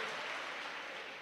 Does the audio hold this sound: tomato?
no